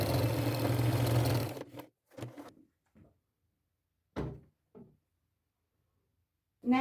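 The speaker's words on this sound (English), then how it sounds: "I'm just going to make a couple little pleats and get it all sewn." Close, steady whir of a sewing machine stitching pleats into a tablecloth skirt, running for about a second and a half before stopping, followed by scattered short clicks and handling knocks in otherwise quiet surroundings.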